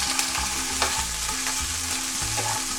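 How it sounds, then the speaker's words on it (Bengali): Fish fry in a pan with a loud, close sizzle and crackle. A low hum runs steadily beneath it. "মাছগুলো আমি একটু ভেজে নিচ্ছি।"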